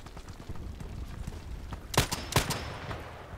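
Long-range gunshots ring out in Contract Wars as two sharp, prominent cracks, with fainter shots and patter behind them over steady background noise.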